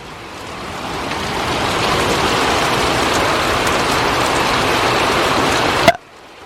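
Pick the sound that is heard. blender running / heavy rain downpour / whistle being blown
heavy rain downpour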